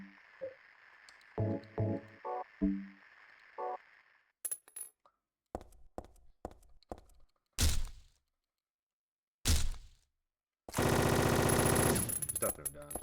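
Gunfire from a weaker handgun in Silent Hill 3, several sharp separate shots followed by a long dense burst near the end, loud and close with quiet gaps between.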